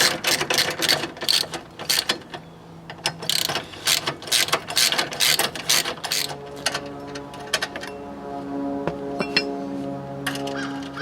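A hand ratchet clicks steadily as it loosens the radiator hold-down clamp bolts on a 2005 Ford F250 6.0L diesel truck, with close, loud bursts of rapid pawl clicking and brief pauses.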